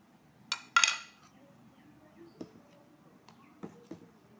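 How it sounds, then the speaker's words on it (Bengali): Spoon working through yogurt raita with pepper and black salt in a bowl, two sharp clinks near the start followed by a few lighter taps and scrapes against the bowl. "আবারও একটু নাড়াচাড়া করে নেব।"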